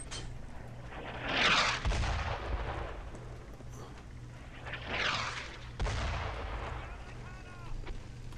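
Enemy tank cannon fire in Brothers in Arms, a WWII shooter, two heavy booming blasts a few seconds apart, each with a rolling rumble, amid battlefield noise.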